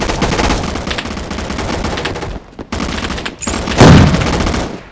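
Rapid automatic gunfire in a Roblox shooter game rattles loudly in sustained bursts, broken by two short gaps and a heavier, boomier blast near the end.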